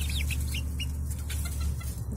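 Baby chickens cluck and peep continuously at close range while eating from a person's hand, with a steady low background hum underneath.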